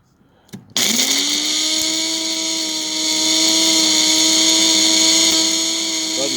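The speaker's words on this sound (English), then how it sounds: "I make them into a fine powder. And I just use one of these little blenders" A small blender grinding dried lovage stems into powder, starting after a brief click and running with a loud, steady high whine that holds to the end.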